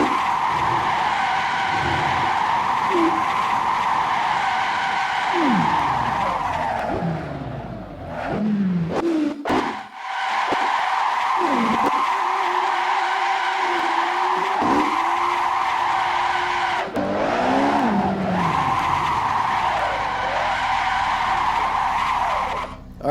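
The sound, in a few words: car tires skidding in Assetto Corsa racing video game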